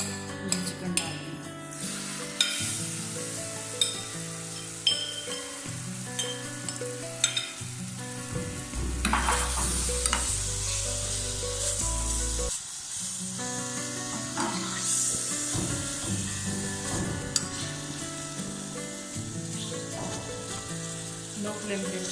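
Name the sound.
chicken sizzling in a pan for shawarma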